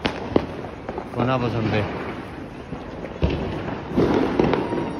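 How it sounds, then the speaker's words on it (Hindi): Diwali firecrackers burst in the distance, several sharp pops and booms scattered through the clip, partly under someone talking in Hindi and background chatter. "आवाज़ सुन लो कितने पटाखे"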